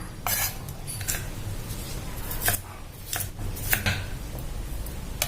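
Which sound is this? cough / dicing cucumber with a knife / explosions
dicing cucumber with a knife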